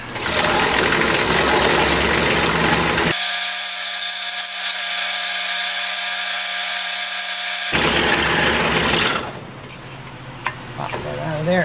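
A wooden pretzel puzzle is cut on a power saw, which buzzes steadily and mechanically at close range and carries on throughout before easing off near the end.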